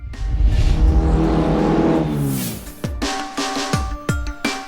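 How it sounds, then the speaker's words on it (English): The all-new Mahindra Scorpio SUV with its 2.2 litre M-Hawk diesel engine drives past, a swelling engine note rising then fading, followed by a few sharp transient knocks and clatters, with no voices. "Now here we are driving the all-new Mahindra Scorpio"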